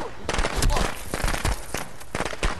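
Rapid, dense bursts of popping explosions crackle in quick succession, loud and close, like a string of firecrackers going off with some voice mixed in; firecrackers in the video game Friday the 13th.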